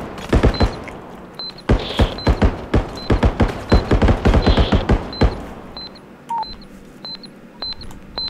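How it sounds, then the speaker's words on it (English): Bomb being planted in the BodyCam shooter video game: a steady series of short, high electronic beeps runs throughout, mixed with loud, rapid bursts of gunfire that fade out toward the end. "That sounds like a bomb just being planted."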